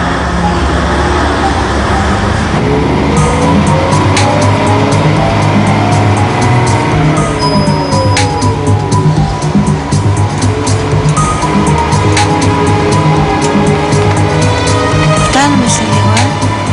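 A city bus drives along in a Greek TV crime drama episode, with a loud, continuous engine and road roar and passing traffic throughout, plus some faint voices in the background.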